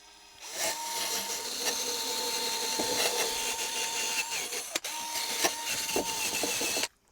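A rotary wire brush scrubbing caked grease and rust off a Peugeot 205 Rallye, running as a steady, loud whirring grind for about six seconds before cutting off abruptly.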